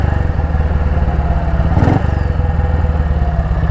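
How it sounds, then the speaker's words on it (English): A BSA Goldstar motorcycle exhaust after major engine repair, a close, loud, rapid thumping beat with a brief rev burst midway. "I absolutely love the tweeting from the exhaust that the Goldstar gives."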